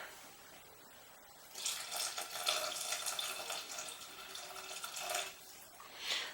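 Water poured into a Thermomix bowl while making a beef and potato stew, a steady splashing pour that starts after a quiet moment and runs for several seconds, close up, with no talk.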